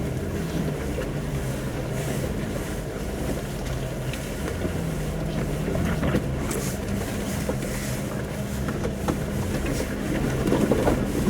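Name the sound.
Jeep Wrangler engine accelerating after shifting from first into second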